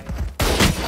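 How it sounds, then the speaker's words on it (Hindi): Marshal sniper rifle firing headshots in the Valorant video game: a quieter stretch gives way to a sudden loud, dense burst of gunfire-like noise that continues to the end. "अबे देखो मार्शल से पट पट हेडशॉट सीधा"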